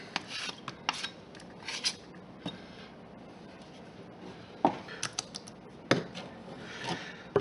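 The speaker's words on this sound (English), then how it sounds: "So you may hear me shaping stuff that you can't see." Plaster rock for model railroad scenery being carved and shaped by hand, heard as quiet, intermittent rasping and scraping strokes in uneven bursts, with no one talking.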